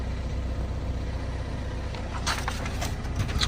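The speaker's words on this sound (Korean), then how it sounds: "엔진 소리도 괜찮죠." A used front-wheel-drive diesel family SUV idles at an auction lot, its engine a steady low rumble throughout, with brief faint higher clatter and background noise near the end.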